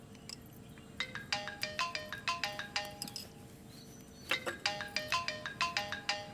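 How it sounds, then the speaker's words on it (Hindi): A phone ringtone for an incoming call chimes in a repeating melodic pattern of bright tones, pausing once before starting again, fairly quiet over a faint background. "वो 9 बज गए हैं ना, तो नाश्ता किया कि नहीं इसलिए माँ का फोन है।"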